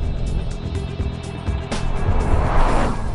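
A Bugatti Veyron Grand Sport engine roars close by, building in intensity at full throttle, with a sharp whooshing wastegate blast of released pressure partway through.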